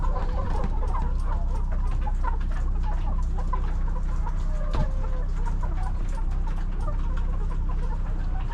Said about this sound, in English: These new chickens, it's just settling down.